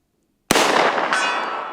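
A single sharp rifle shot at an outdoor range, aimed at a steel target at 100, with a booming report and a faint metallic ring from the struck steel trailing through the echo.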